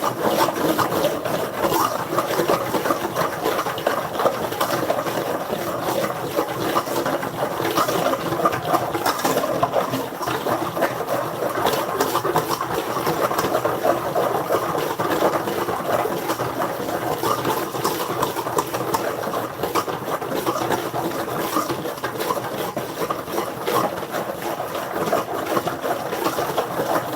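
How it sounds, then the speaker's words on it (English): Chocolate cake batter beaten steadily with a hand whisk, a continuous rapid scraping and rubbing close by that keeps up without pause and with no talking. "and then I use the hand whisk"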